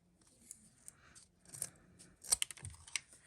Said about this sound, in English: So I grab a pair of my big scissors here, and we're just going to